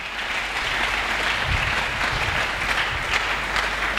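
A church congregation claps steadily and densely throughout, a continuous wash of applause with no pauses.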